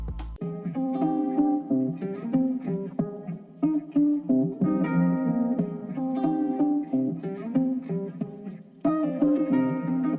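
A dense music sample with tape emulation, light Waves compression and a slight pan to the left plays busy, chopped chordal phrases with sharp attacks and a few abrupt level jumps.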